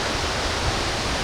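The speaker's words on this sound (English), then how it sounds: "Beautiful waterfall" Tad Etu waterfall in Laos roars as a steady, dense wash of falling water, loud and close, with no voices.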